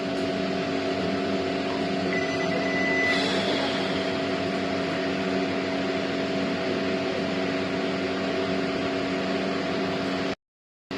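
A garment printer runs a print head check, producing a steady electrical hum and whirring motor drone with a brief higher mechanical whine early on, continuous and close, ending in a sudden cutoff.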